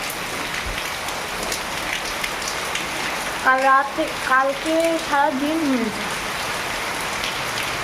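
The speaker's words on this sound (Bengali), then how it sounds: "প্রচণ্ড বৃষ্টি পড়ছে" Heavy rain falls steadily as a dense hiss across the whole stretch, with someone talking over it midway.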